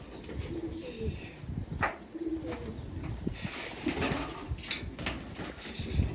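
Tumbler pigeons coo repeatedly beside a coop outdoors, soft low rolling calls recurring through steady background noise, with occasional wing flutters and faint movement nearby.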